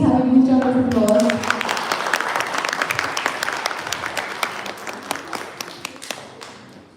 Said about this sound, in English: Audience, can you please have a huge round of applause?